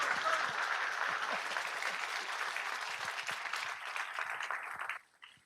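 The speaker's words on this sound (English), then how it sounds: "let's give Greg a round of applause" Sustained applause from an audience after an ocean science lecture, a steady wash of many hands clapping at moderate distance that fades out abruptly near the end.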